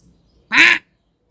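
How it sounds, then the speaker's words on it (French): A baby crow gives a single harsh, nasal call, loud and close, lasting about a third of a second in an otherwise quiet setting. "Oh, un bébé corbeau."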